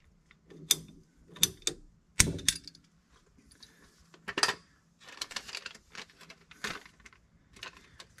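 Pipe being cut during a Camplux BW422G water heater installation: a series of sharp clicking, ratcheting snaps of a cutter closing on pipe, spaced irregularly over several seconds, close and alone with no talk.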